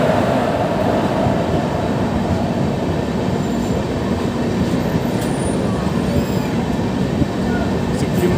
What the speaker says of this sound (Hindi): हमारी ट्रेन काफ़ी धीमी रफ्तार में क्रॉस कर रही है टुंडला जंक्शन को